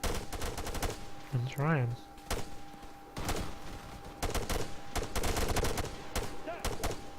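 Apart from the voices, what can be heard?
machine gun gunfire in video game Arma 3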